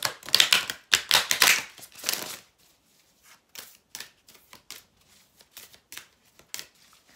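A deck of oracle cards is shuffled close by: loud riffling bursts at the start, then a run of softer, scattered taps and slides as the cards settle.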